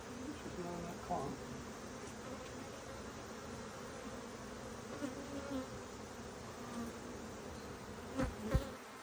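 Honey bees, drones and workers, buzzing inside an opened beehive, a steady close drone with a few louder passes near the microphone and faint handling sounds.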